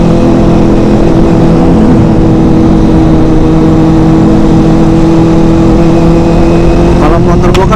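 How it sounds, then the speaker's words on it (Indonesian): A Kawasaki ZX-25RR motorcycle fitted with a smooth carbon Akrapovic exhaust gives a steady, loud, dense engine roar throughout, with a continuous high-revving tone and heavy rushing noise. "Cuma sayang ini knalpotnya pakai Akra yang halus ya, Akra apa gitu, yang karbon."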